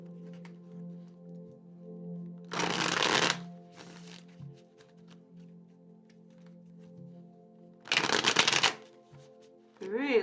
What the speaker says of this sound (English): It's really important to shuffle while you see it